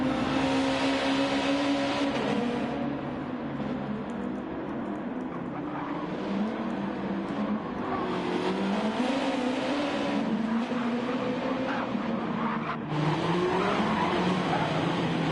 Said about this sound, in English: Ben Hughes out on track now as well.